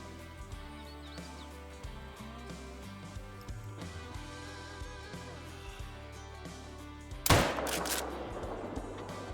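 A single loud rifle shot at a whitetail deer in the hunting game Call of the Wild cracks out near the end, preceded by quiet ambient outdoor sounds and faint game music.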